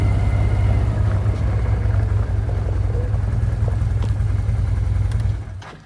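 A very large engine runs at a steady, loud, low drone with a constant throb, holding evenly for several seconds before cutting off abruptly near the end.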